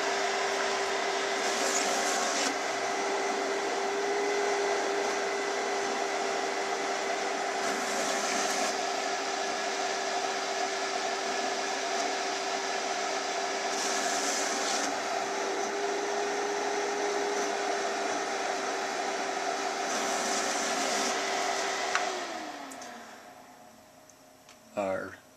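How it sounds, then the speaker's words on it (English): A Graphtec plotter reads registration marks with a steady motorized whine and hum for about twenty seconds, then winds down and stops, followed by a brief mechanical clunk. "Our registration marks have been read. The cutter is ready to cut"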